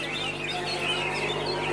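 A cucak ijo songbird sings in a continuous bright stream of chirps and trills, loud and close against a busy background.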